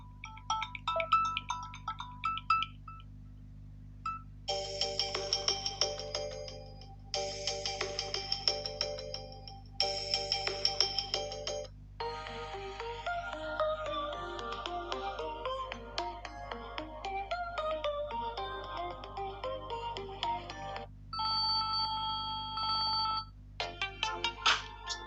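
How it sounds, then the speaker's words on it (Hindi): Samsung Galaxy A51 ringtones playing from the phone's single bottom speaker, several different tunes in a row, separated by short pauses: bright melodic chimes and electronic tones, loud and close, with no talking. "तो यहाँ से कुछ रिंगटोन्स को चला के देख लेते हैं।"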